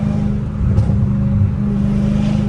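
A supercharged Dodge Hellcat Redeye pulls hard through second gear, its loud, steady engine roar and low rumble filling the space up close, with a brief surge in intensity midway and no voices over it.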